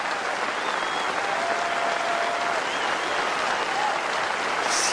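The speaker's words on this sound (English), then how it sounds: "What a wonderful ovation." A cricket crowd rises in a standing ovation at the New Zealand vs India Test in Wellington, with dense, sustained applause and cheering that stays loud and steady throughout, without any speech over it.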